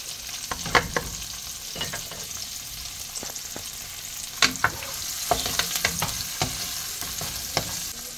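Onions and sweet peppers frying in olive oil in a pot for shrimp fried rice, with a continuous close sizzle broken by irregular spoon knocks and scrapes against the pan.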